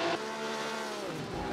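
Race cars lap Goodwood in a racing video game during a Stirling Moss tribute race, giving a sustained, fairly loud engine drone whose pitch climbs and shifts as the cars accelerate, with no talk.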